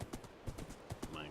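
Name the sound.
horse hooves clip-clopping in a video game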